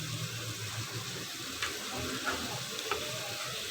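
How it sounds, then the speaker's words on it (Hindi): Vegetables tipped into a hot pot of simmering rice dish, bringing a steady broad sizzle and hiss with light stirring scrapes and a couple of brief clinks close by. "अब इसमें वेजिटेबल्स डालेंगे"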